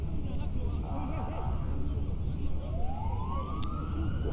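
Ambulance siren wailing as it leaves a football stadium during a match, a rising siren tone in the distance under steady crowd noise and a commentator talking.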